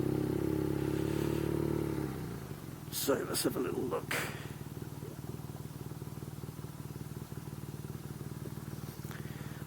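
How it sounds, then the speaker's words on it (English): An air-cooled BMW R nineT motorcycle engine idling nearby with a steady low throb and faint mechanical clatter, while someone speaks briefly over it. "I'm going to leave the engine running just for a moment."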